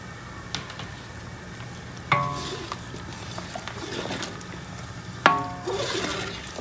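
Green mango pickle spice mix cooks in vinegar in an uncovered pan, a soft steady sizzle broken by two sharp clanks of a spoon against the pan and a little stirring scrape.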